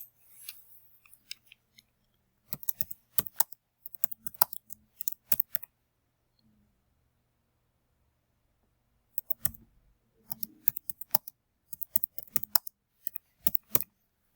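Computer keyboard keys tap out a text message in short sparse bursts of sharp clicks separated by pauses, close and fairly quiet, with no voice.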